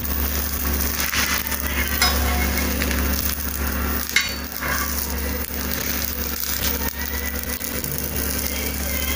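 A vegetable bread sandwich fries in a pan, sizzling steadily and close up with a constant crackling hiss, plus faint occasional stirring or utensil clinks.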